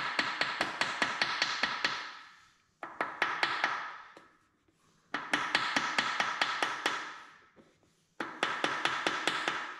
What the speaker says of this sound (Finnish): kun tätä koputtaa tätä selluloosapaperia tuohon metalliin